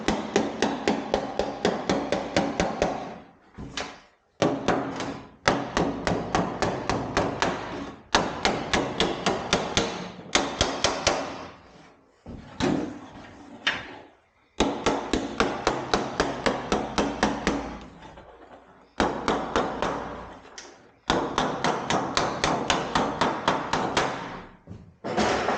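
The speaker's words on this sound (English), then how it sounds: "we're going to hammer this a little bit down." Hammer blows driving down the edge of a square metal tub, rapid bursts of ringing metallic strikes in quick rhythmic runs, separated by short pauses, loud and close.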